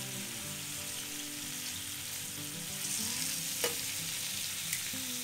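Bacon crisping in a pan on a barbecue grill, a steady close sizzle and crackle with a few sharper pops, no voices.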